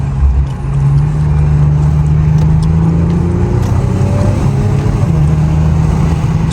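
Infiniti Q50 under power after a turbo repair, its engine droning loud and steady from inside the cabin with rising and shifting tones as it pulls hard.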